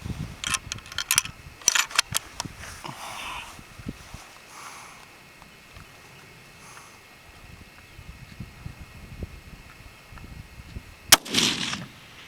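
Long-range rifle shots fired at targets 600 yards away, outdoors, heard as several sharp cracks spaced apart with a loud report near the end, and brief talk in between.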